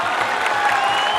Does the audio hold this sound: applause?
yes